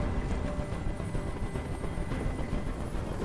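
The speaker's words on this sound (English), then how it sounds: "I can't stand that noise anymore! Tell that helicopter to get out of here!" Helicopter noise in the video game Detroit: Become Human, a continuous dense rotor and engine drone hovering close and loud for a few seconds, with no voices over it.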